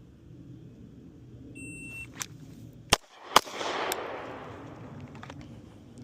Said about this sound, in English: I'm going to come up 2 shots to the head, see how we do.